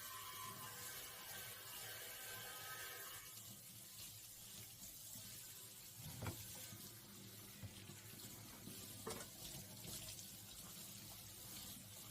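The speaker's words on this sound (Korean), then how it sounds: "필요한 만큼 조금 떼어내어 물에 적셔서 조물조물하면 세제 일체형이라 거품이 생겨요" A detergent-integrated kitchen sponge being wetted and squeezed under running tap water at a sink, a continuous close splashing flow with a few soft squelching bursts, no talking.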